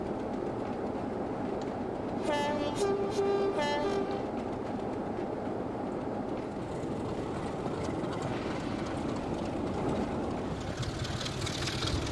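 A steam locomotive whistle sounds in Trainz 22 on the Swanage Railway, a few short blasts and then a longer one over the steady rumble and clatter of the moving train.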